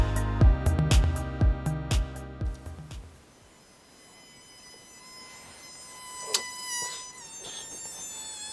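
A mosquito whines with a thin, steady high-pitched buzz that carries on after some rhythmic thumping music fades, fairly close and continuous with small swells in loudness.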